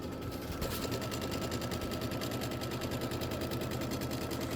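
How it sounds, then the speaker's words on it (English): A sewing machine stitches a seam line on a quilted tile in rapid, even mechanical rattling, loud and close, running continuously without pause. "You're going to stitch the seam line and the grass placement line."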